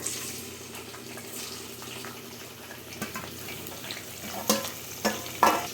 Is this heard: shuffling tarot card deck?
no